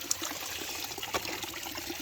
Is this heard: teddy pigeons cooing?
no